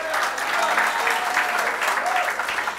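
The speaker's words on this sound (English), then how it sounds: "Give him a round of applause." Crowd applause at a UNC political meeting in Chaguanas, a dense, steady wash of many hands clapping throughout at close range, with a faint voice or two under it.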